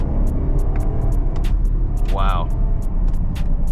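A large-bodied car's engine rumbles steadily close by as it picks up speed, a rising whine briefly cutting through, while someone talks over it.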